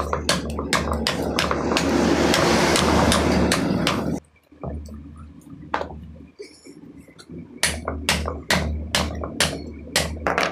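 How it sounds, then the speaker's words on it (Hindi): A hammer taps down a rotor field winding coil of 465 turns of 19-gauge copper wire. A dense run of close knocks gives way to a pause, then irregular sharp taps. "अब हम इसको ठोक देते हैं।"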